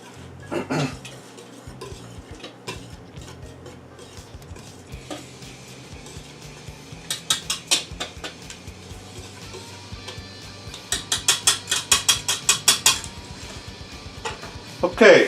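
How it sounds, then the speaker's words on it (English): A whisk stirs flour in a bowl while making self-rising flour for biscuits, with quiet scraping followed by bursts of quick rhythmic clinking strokes, close and clear, in short spells with pauses between. "Just whisk that in a little bit."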